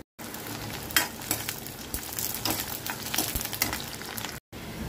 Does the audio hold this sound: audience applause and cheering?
no